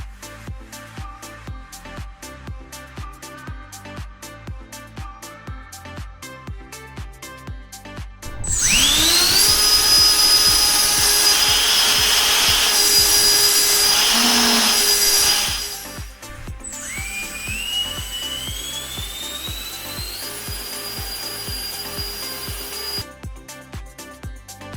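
A 2500 kV Sunfun brushless motor drives a 3D-printed EDF variable nozzle engine, spinning up to a loud high whine for several seconds, dropping off, then surging again more briefly, with music underneath.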